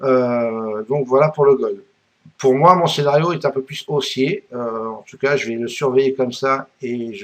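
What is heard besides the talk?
No everyday noise stands out behind the speech.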